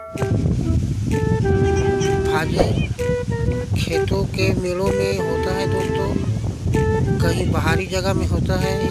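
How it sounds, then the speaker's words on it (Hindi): Wind blows across an open field, a constant loud buffeting roar against the microphone under someone talking steadily throughout. "अभी हवा चल रहा है दोस्तों, इसीलिए मेरा आवाज़ भी साफ नहीं आएगा।"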